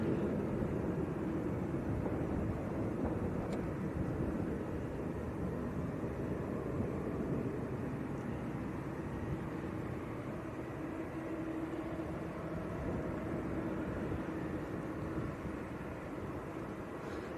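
A Boeing Dreamliner airliner at Manchester airport, departing for Kos in Greece, makes a steady, broad jet roar that holds at an even loudness throughout, heard from a moderate distance with no talk over it.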